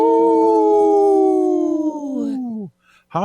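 People imitate wolf howls on a Native radio program, a long, loud, wavering howl sliding slowly downward before breaking off, then a brief new howl starting sharply after a short pause.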